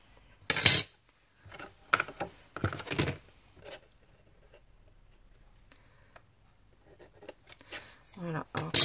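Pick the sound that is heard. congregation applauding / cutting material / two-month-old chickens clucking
cutting material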